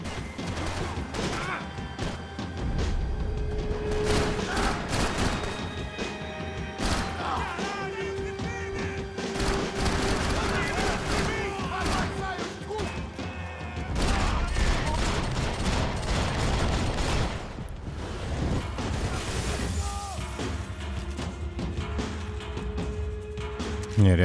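Gunfire in Max Payne 3 during the final chapter, bursts of loud shots and crashing impacts over about twenty-four seconds, rapid volleys mixed with a steady in-game music and effects bed.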